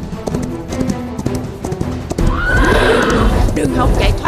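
A cartoon witch's horse clip-clops in a rapid galloping rhythm, then lets out a loud, close whinny, with a voice talking over the sounds.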